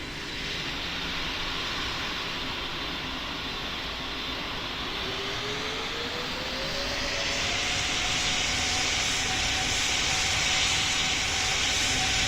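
An airplane in the Roblox game Pilot Training Flight Simulator takes off from a runway. A steady engine roar builds and rises in pitch as it gains speed, loud and continuous throughout, with no talk.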